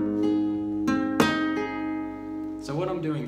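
Traditional flamenco soleá phrase on guitar: a few plucked and strummed chords ring out with sustained harmonic tones, followed by a quicker run of notes near the end, clear and close with no talking.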